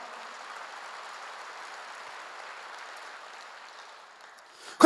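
A church congregation claps as a steady, soft wash of many hands, somewhat distant and even. It fades away near the end before a sudden short noise cuts in.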